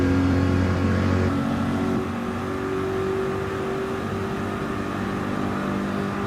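Racing cars accelerating in a Gran Turismo GR3 sim race at Monza, a continuous engine drone that shifts pitch as the pack charges down the straight, steady and fairly loud with no talk over it.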